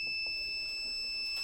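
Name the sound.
heat press timer beeping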